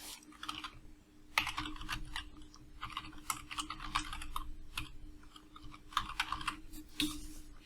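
Brisk, irregular typing on a computer keyboard as an email address is entered, clustered bursts of close clicks over a faint steady hum.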